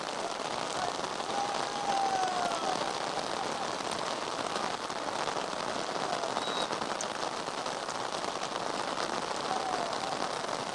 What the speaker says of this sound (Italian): Continua a piovere forte qui a Giovinazzo.